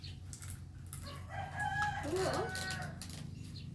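Chickens cluck and a rooster crows outdoors, the crow rising in the middle of the stretch over a steady low background hum, with no talk.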